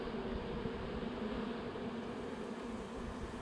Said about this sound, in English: next couple of frames look pretty busy with bees